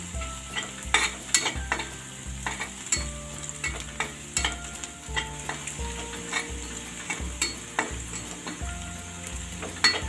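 Spices roasting in a pan over a medium flame, stirred with a utensil in regular scraping strokes and clinks over a low, steady sizzle, close and moderately quiet.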